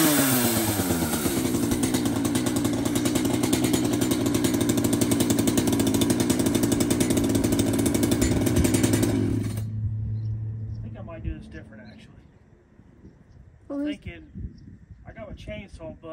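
A chainsaw runs steadily and loudly while cutting a wooden post for a lean-to built onto an existing structure. The engine then winds down and stops, and a person talks among quieter handling noises.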